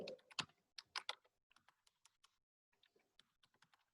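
Someone typing a C program on a computer keyboard, with irregular clusters of crisp, close key clicks and brief pauses between bursts, quiet room, no talk.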